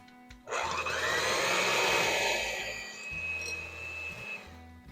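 An electric mixer whirs steadily as eggs are beaten into sugar for carrot cake batter, a close, continuous motor drone with a rough mid-range texture, starting abruptly and holding for several seconds with no talking.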